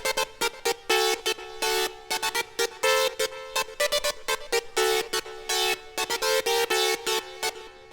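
Bright synth lead preset called Parade, built in Vital, playing a quick, choppy rhythmic melody of short staccato notes with brief gaps, fairly loud and alone without any talking.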